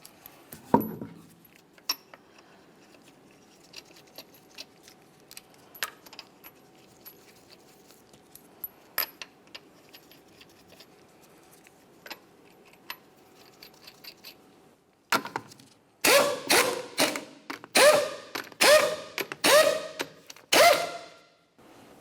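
Lug nuts are run down on a 2009-2010 Pontiac Vibe wheel during an alternator job. Sparse faint metallic clinks come first, then a run of loud, close, rattling metallic bursts, with no talking.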